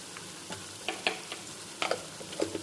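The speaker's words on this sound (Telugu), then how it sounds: "ఆనియన్స్ అయితే కొంచెం వేగాలన్నమాట కొంచెం కలర్ కొంచెం కలర్ చేంజ్ అవ్వాలి" Onions frying with turmeric in a pan, giving a low steady sizzle broken by a few light clicks and scrapes from stirring.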